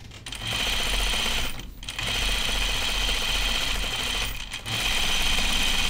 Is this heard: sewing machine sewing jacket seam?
yes